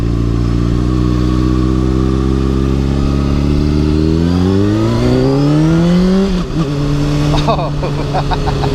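A 2013 Honda CBR600RR's engine rises steadily in pitch as the motorcycle accelerates, loud and close, then drops at a gear change and climbs again with a rough buzzing tone.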